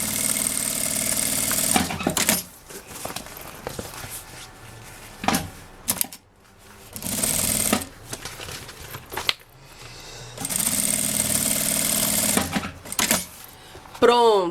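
A sewing machine stitches along each side of a lining in two long bursts of fast, rhythmic mechanical whirring, close and loud, with quieter handling and pauses between them.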